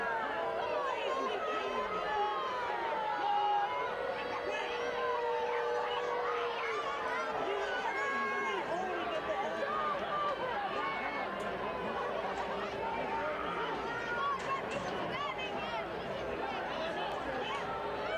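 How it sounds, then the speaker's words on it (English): Restless, vocal crowd at a soccer match at Segra Field, a steady hubbub of many voices and shouts carrying on for the whole stretch, with a commentator talking over it. "It's an antsy crowd here at Segra Field."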